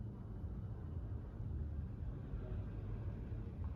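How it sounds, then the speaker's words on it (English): Street traffic of cars and trams in Amsterdam, heard as a steady low rumble with no distinct passes, faint and continuous throughout. "you might hear a lot of traffic, like cars and trams"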